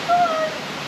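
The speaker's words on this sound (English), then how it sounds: "Like there's a waterfall drop there." Waterfall in Portugal's Serra da Estrela in late August, a steady broadband rush of falling water heard close for a brief moment, with a faint voice over it.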